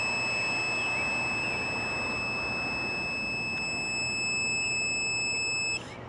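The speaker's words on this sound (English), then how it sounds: "So now it's on, and the buzzer is buzzing." An electronic buzzer wired to a Heltec Wi-Fi LoRa 32 relay remote switch buzzes with a steady, continuous high-pitched tone that holds throughout and cuts off abruptly just before the end, with no talking.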